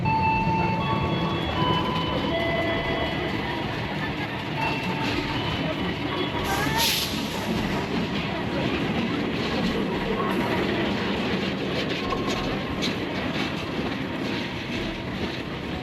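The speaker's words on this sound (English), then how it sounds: "So now the train is coming!" A train rumbles past on the rails with steady clattering and a brief high squeal partway through, loud and continuous throughout.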